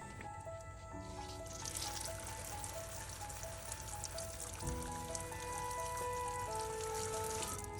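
A garden shower sprays steady water over potted succulents, rinsing Kanuma soil from between their leaves; the continuous hiss and patter runs the whole time beneath soft background music, with no one talking.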